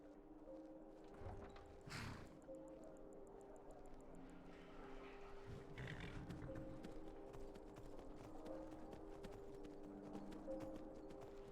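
Horse hooves clip-clop in a steady rhythm as a rider travels in the Skyrim video game, fairly quiet and mixed with game ambience and occasional thuds.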